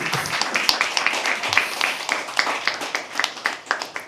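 A small audience at a poetry open mic claps for a performer, with distinct individual handclaps in a loose, sparse rhythm, close and moderately loud.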